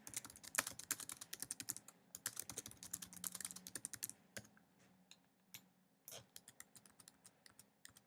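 Brisk typing on a computer keyboard into a word-processing document, with a dense run of rapid, close key clicks, a short pause, then more scattered taps, quiet and without speech.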